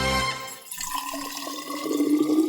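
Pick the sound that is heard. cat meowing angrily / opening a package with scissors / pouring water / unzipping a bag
pouring water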